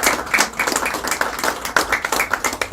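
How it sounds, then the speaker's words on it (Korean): Warm applause from an audience welcoming two newly appointed co-chairs at a Christian party event outside the National Assembly, steady dense clapping close by with rhythmic peaks throughout. "우리 두 분을 뜨거운 박수로 다시 한번 환영하도록 하겠습니다"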